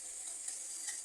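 Spice paste for ghugni, with chopped coriander and a little sugar, sizzles steadily in a pan as it is stirred, with two brief scraping accents over a constant hiss.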